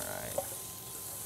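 Onions frying in oil in a cast iron Dutch oven, a close, even, continuous hiss with one faint tap, no talking.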